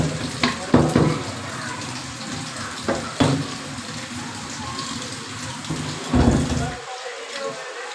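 A tap runs steadily while dishes are washed in a village home kitchen in the evening, with several clinks and clatters of utensils rising above the close, constant water noise.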